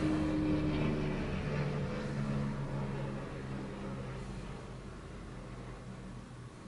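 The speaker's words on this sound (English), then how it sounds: "That's a helicopter outside, guys." Droning engine of a helicopter passing overhead outside, loud at first with a tonal hum, then gradually fading into the distance.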